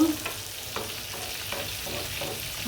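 Fish sizzles in hot oil in a pan as it is turned over, a steady close frying hiss with a few soft scraping stirs and no talk.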